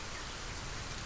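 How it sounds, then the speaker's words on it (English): Steady rain falls in the SolarPunk video game, a continuous dense patter across the whole moment with no voices. "I didn't expect it to rain."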